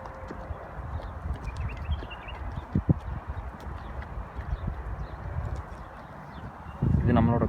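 Horse hooves clip-clop at a walk along a riding trail at a horse farm in Bahrain, a steady uneven rhythm close by, with a voice talking near the end.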